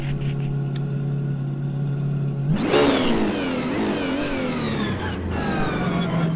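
A race car engine in a racing video game played on a TS XWRacer P310 Sparco wheel holds a steady drone, then revs up sharply and climbs through gear changes, loud and close with no talking.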